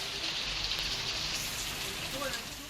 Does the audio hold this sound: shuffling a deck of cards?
no